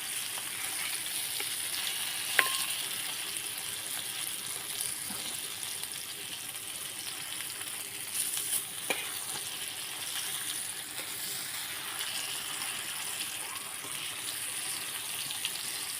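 Small pieces of fish sizzle in a pan, a steady close frying hiss that runs without a break, with a couple of faint clicks and no talking.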